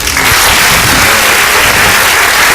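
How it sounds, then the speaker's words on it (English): A crowd claps for a guest at a book event, a loud, continuous burst of applause filling the whole stretch, close and steady with no talking on top. "Can we give Bill a round of applause?"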